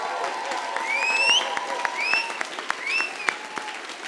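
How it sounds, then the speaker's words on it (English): Audience applause fills a room at a 2019 Bachelor's Program graduation recognition ceremony. Steady, dense clapping carries a few bright whistles of cheering throughout. "giving a round of applause to all of the Bachelor's Program class of 2019"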